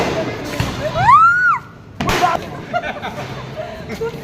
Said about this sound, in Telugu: అంత బాంబు వెలిగిస్తుందండి చాలా